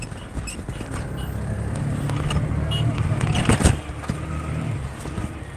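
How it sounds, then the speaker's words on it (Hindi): Road traffic from outside leaks through an open microphone on an online call, a continuous rumble of passing vehicles with scattered clicks and knocks and one louder thump, under faint background voices. "इतनी देर से ट्रैफिक का नॉइज आ रहा है"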